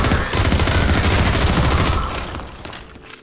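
Rapid gunfire in the video game Half-Life 2 rattles off in a dense, loud automatic burst of overlapping shots, then thins into scattered trailing pops as it fades.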